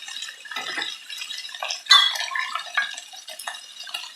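Water from a cup poured into a pan of Korean soybean paste stew holding shiitake mushrooms and squash, a short splashing pour with light clinks of cookware and stirring, close and clear with no talk.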